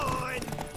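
Horse hooves clip-clopping in The Witcher 3: Wild Hunt, a brief steady trot heard close beside a voice and game music.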